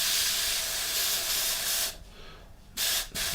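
An airbrush sprays lightened paint onto a Revell 1/32 He111 model kit, a loud steady hiss that cuts off briefly, then returns in two short bursts.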